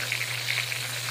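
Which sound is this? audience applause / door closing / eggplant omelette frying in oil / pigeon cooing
eggplant omelette frying in oil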